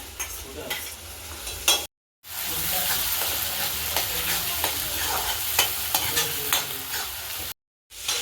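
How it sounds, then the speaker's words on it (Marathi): Onion-tomato puree with cumin and ginger-garlic paste fries in hot oil for a chole masala. The sizzle is loud and steady, with spoon stirring scrapes throughout and two brief dropouts. "जिरे टाकून घेऊया अद्रक लसणाची पेस्ट टाकून घेऊया कांदा टमाट्याची प्युरी टाकून घेऊया"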